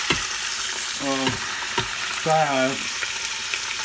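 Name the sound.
chicken thighs sauteing in stir fry oil in Instant Pot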